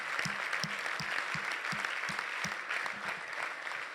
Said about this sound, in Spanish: Un aplauso a Dios por ellos, por favor.